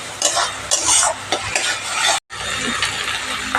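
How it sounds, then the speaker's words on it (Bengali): Potatoes and chickpeas stir-fried in an oily spiced masala in a wok, with steady close sizzling and repeated scraping and stirring strokes of a utensil, and no voices. "আলুটা দিয়ে আর ছোলাটা দিয়ে ভালোভাবে কষাবো।"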